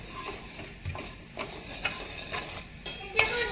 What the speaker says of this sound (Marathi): ठिकाणी आपण मस्त अशी खसखस भाजून घेतोय